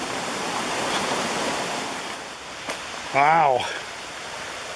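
Mountain stream flowing at a campsite in the Adirondacks, a loud, steady broadband rush of water, with a brief spoken exclamation near the end.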